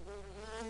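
A bee drones in the Dead Rising video game, a steady faint buzz with no break over its short length.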